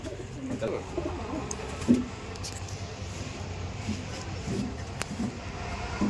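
Rajshahi Giribaz pigeons coo softly in a few low, brief calls over a steady outdoor hum, with no voices present.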